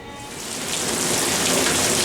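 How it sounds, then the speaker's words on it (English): Heavy rain pours down over a normally dry desert at the Crow's Nest Railroad, a dense, steady hiss of falling water that swells slightly louder and is heard alone. "Pouring rain here on the Crow's Nest Railroad."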